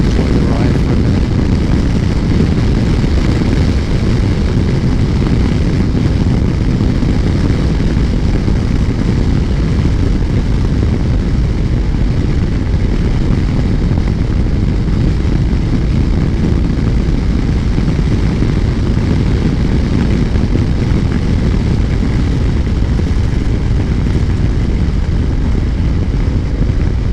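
A BMW R1250GS motorcycle rides along Wiltshire country roads, producing a continuous loud rush of wind and engine drone at steady speed throughout, with no talking.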